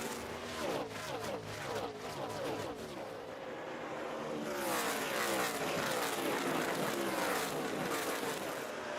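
A pack of NASCAR Nextel Cup cars at the Brickyard roars down into turn 1 during the 2007 Allstate 400, a dense, droning engine wash that swells louder and closer as the field passes.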